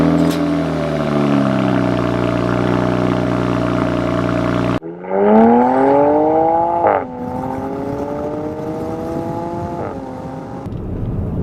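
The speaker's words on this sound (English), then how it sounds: "The 335 IS has its own unique exhaust from BMW." Exhaust note of a BMW 335is, an E90/E92-platform car with its own factory exhaust: a steady, humming engine drone, then an abrupt cut to a revving climb that rises in pitch, dips, and settles into a smooth, loud hum with brief blips.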